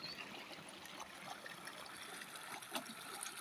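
Natural glacier-fed spring water welling up like a fountain among mountain fields, a steady close bubbling trickle with a soft continuous wash and no talk.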